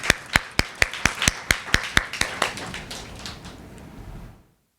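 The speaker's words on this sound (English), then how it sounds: "With a round of applause, let's welcome Arlie." A run of sharp, separate hand claps from a small audience at a free literary reading, about a dozen quick claps that thin out and fade into a soft room murmur before stopping.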